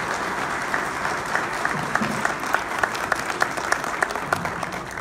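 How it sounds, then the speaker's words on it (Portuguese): An audience at an urban mobility forum bursts into steady applause of thanks, a dense continuous wash of clapping with a few crisp claps poking through and a faint murmur of voices beneath. "para demonstrar o nosso agradecimento, uma salva de palmas"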